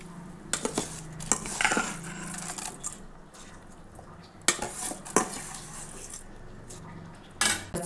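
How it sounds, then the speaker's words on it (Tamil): Washed rice poured into a pot of boiling water, with metal pot and utensil clatter and scraping in a few sharp bursts over a steady simmering background; no talking. "இப்போ நம்ம கழுவி வச்சுருக்க அரிசியை சேர்த்துக்கலாம்."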